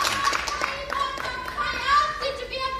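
Audience applause on a Hindi TV game show, a steady patter of clapping running beneath bright sustained tones and a few voices.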